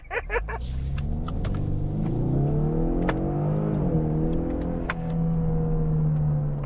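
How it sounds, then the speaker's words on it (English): A 2024 Ford Mustang EcoBoost engine drones as it accelerates, its pitch climbing and then dipping at a gear change before pulling again. Faint clicks sit above the loud, continuous engine sound, and no one speaks. "It's able to upshift and downshift kind of when you want to. Let me demonstrate."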